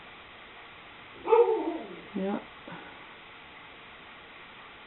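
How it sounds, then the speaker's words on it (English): A pet dog barks indoors in a short burst of two or three yapping barks with a whimpery edge, moderately close, while someone says a single brief word. "Always with the barking."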